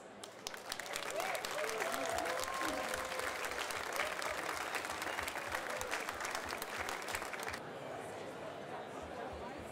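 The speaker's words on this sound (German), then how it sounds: "Ein herzliches Dankeschön und einen dicken Applaus." Enthusiastic crowd applause at the Bernkastel wine festival crowning of the wine queen and her princesses, dense sustained clapping from a large outdoor audience that swells, holds and then drops off abruptly near the end.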